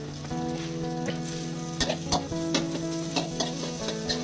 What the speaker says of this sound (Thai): ผัดข้าวไปก่อน